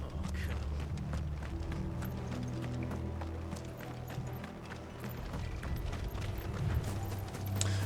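Horses in the video game Final Fantasy 16 clop steadily in a dense stream of hoof beats, with creaking and mechanical clatter mixed in at moderate, constant loudness.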